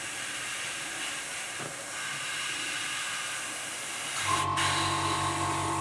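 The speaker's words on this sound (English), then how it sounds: "sorry about the compressor, this won't take long" An air compressor feeding an airbrush while light dirt weathering is sprayed onto a scale model SAS Jeep gives a steady, close hiss, then a deeper motor hum with a tonal whine kicks in near the end.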